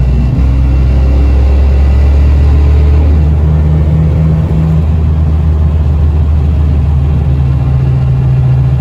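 An LS-swapped 2004 BMW 320i driving on the road, its V8 holding a deep, steady drone that climbs slightly in pitch as it pulls, heard from inside the cabin with no talking.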